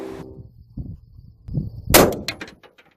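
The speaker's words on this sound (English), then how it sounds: "Now, we'll be at 100 yards and take 2 shots at a pumpkin." Two rifle shots fired at a pumpkin 100 yards away: a first sharp report, then a louder, brighter crack with ringing echoes trailing off, outdoors at a range.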